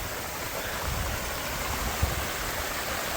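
Savatsada waterfall in Parshuram Ghat during the monsoon, heard as a steady broadband rush of falling water, even and moderately loud, with a faint thump near the middle.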